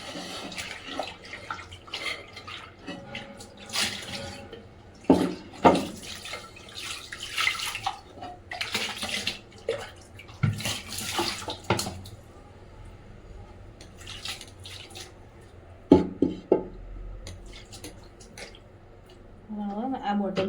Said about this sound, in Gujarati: તો આપણે કુંડું ધોઈ દઈએ પહેલાં.